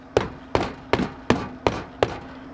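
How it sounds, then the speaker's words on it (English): Six sharp metallic hammer taps on a car battery terminal clamp in a steady rhythm, close by, each ringing briefly before the next strike, with a faint low hum underneath. "And hammer it on. Give it a bunch of taps."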